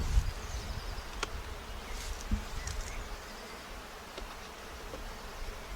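Honey bees buzz around a backyard beehive holding two supers, a soft continuous drone at close range with occasional louder passes of single bees near the ear.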